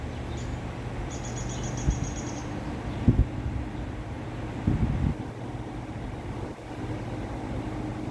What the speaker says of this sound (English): let's take advantage of that and start it up on high, blowing out in this direction that I'm facing